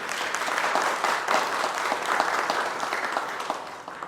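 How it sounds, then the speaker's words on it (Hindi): Loud, sustained applause fills the room as an audience claps for a chief guest being honoured on stage at a school education department yoga session event, dense and even throughout with no speech over it. "जोरदार तालियां"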